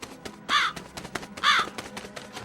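A pet crow perched high in a large tree on a mountain at night gives two loud, harsh caws about a second apart, with faint rustling and small noises around them.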